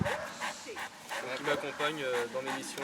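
A three-year-old Malinois police dog with a municipal police officer yips and whimpers in short, high bursts close by, under someone speaking French.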